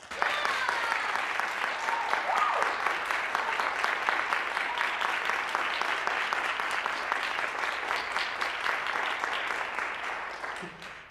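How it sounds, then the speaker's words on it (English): Sustained applause from a live audience for San Francisco Ballet dancers at a panel discussion, loud, steady and even for about eleven seconds before tapering off at the very end. "this is likely the first applause that they've heard from a live audience in over a year"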